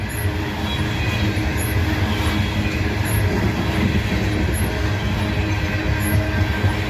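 Freight train with a distributed power locomotive rolling steadily past at close range: a continuous loud rumble of wheels on rails with faint rhythmic clicks, unbroken throughout.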